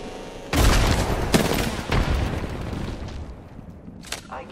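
A frag grenade detonates in Apex Legends with a sudden loud boom, followed by a few sharp blasts and gunfire cracks that decay into quieter rumble, then one last crack near the end.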